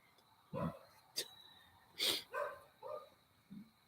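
Dogs barking at a distance in a few short separate bursts, faint and spaced out, with no talk over them.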